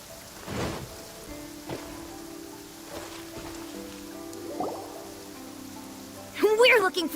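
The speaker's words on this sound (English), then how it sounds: "Taking a stroll in the middle of a downpour certainly rouses the spirit." Downpour in the Genshin Impact video game, soft steady rain patter under a quiet musical score, with a brief character voice near the end.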